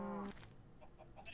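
Minecraft chickens clucking in a farm pen, one short tonal cluck at the start followed by faint scattered clucks and game sounds.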